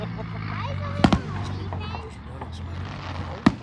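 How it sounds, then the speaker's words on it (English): Fireworks on the Fourth of July pop outdoors with two sharp bangs, a close double crack and then a single one, over steady low background rumble and nearby voices. "because the fireworks are almost over."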